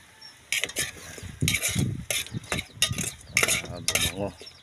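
Bitter gourd leaves stirred and tossed in a pan, a series of uneven scraping and rustling bursts with faint sizzling underneath, close and fairly loud.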